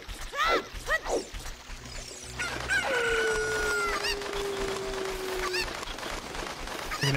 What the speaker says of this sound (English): I still need a chicken to get over there